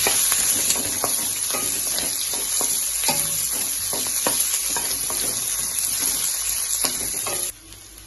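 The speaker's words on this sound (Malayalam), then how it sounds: "ഇത്തിരി പച്ചമുളക് അരിഞ്ഞത് നമ്മൾ ഇടാൻ പോവുകയാണ്." Chopped green chillies hit hot oil in a pan for chilli prawns, producing a loud, dense sizzle with spatula stirring scrapes that runs continuously before cutting off abruptly near the end.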